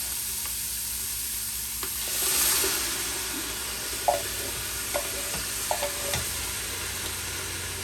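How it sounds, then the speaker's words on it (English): Quinoa and bean chili being stirred with tomato sauce in a pot, a soft sizzle under a few sharp spoon knocks and scrapes against the pot in the second half. "Now, stir it up real good and get our tomato sauce in."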